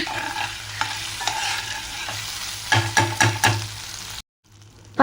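Spices sizzle in a pan on a medium flame with garlic and tamarind for red chutney, with a spoon scraping and stirring in a quick cluster of strokes before a brief silence.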